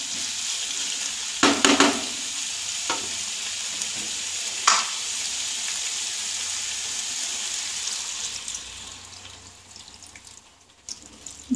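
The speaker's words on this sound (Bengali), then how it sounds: "এবার আমি জল দিয়ে দেবো" Water is poured into a pan of frying vegetable curry (jhol) with lentil fritters, giving a steady loud sizzle broken by a few sharp splashing bursts, then gradually easing and quieting toward the end.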